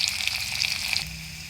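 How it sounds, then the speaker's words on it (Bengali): Onions frying in oil in a pan, a steady hissing sizzle that eases off toward the end, close and moderately loud. "পেঁয়াজ ভাজা হয়ে গিয়েছে"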